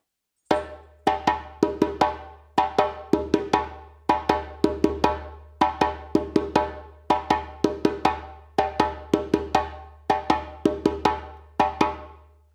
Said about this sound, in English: Let us now move on to the second accompaniment for the rhythm Fe.